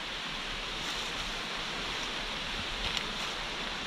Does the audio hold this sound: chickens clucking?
no